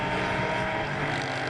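A superkart racing engine bursts into life after a struggling start and settles into a steady, buzzing drone, fairly distant and even, with no talk over it.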